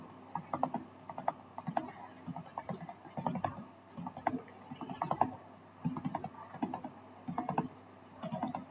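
Close, soft typing on a computer keyboard while entering text in an Excel spreadsheet, in uneven bursts of quick key clicks with short pauses between them.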